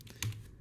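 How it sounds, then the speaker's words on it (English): Keystrokes on a computer keyboard while working in After Effects, including the return key and the F key: a couple of quick, close clicks in a quiet room. "Hit the return key on your keyboard, press F on the keyboard"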